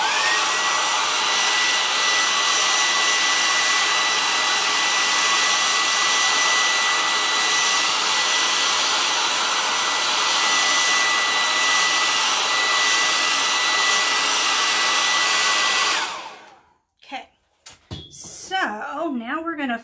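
A hair dryer blowing on painted wood for a DIY family sign gives a loud, steady whir that runs for about sixteen seconds and then shuts off, followed by handling clatter and a voice.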